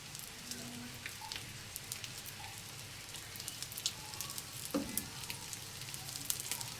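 Fish kebabs shallow-frying in oil over a medium-low flame, a soft, even crackling sizzle with scattered pops, steady and fairly quiet, no talking.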